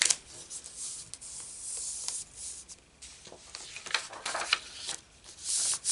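Soft, scratchy rubbing strokes go back and forth over stamped paper during card making, close and quiet, in uneven bursts.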